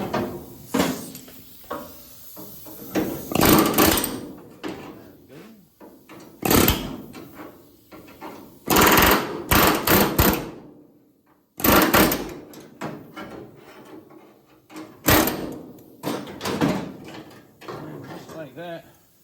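Welded trunk gutter being pried loose from a car body, a series of sharp metallic cracks, scrapes and bangs in irregular bursts, close and loud, with someone speaking between the bursts.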